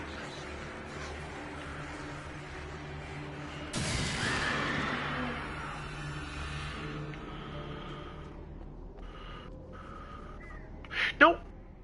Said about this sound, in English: I can't get out, and the birds won't leave me alone.